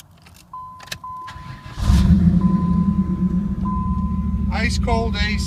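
A 1994 Pontiac Firebird Trans Am starts after a few faint clicks and a steady chime, the engine catching with a loud crank and settling into a deep, close idle rumble while the chime continues.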